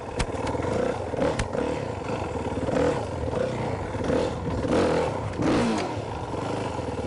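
A dirt bike engine revs hard as the rider crosses a big log, a loud, close, rough snarl rising and falling with clattering bursts throughout.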